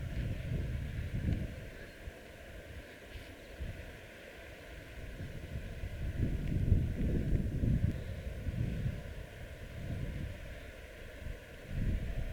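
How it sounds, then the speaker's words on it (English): Wind gusting across a mountain camp in the Beartooth wilderness, a steady low rumble that swells and fades in irregular gusts, buffeting the microphone close by with no talking. "A little windy"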